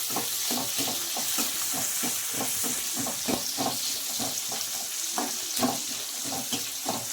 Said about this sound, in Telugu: బ్రౌన్ కలర్ వచ్చేంత వరకు వేయించుకుందామండి.